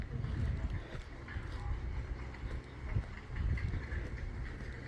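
A tractor plows a field, its low engine rumble droning steadily at a moderate distance with slight swells, under outdoor ambience and occasional voices.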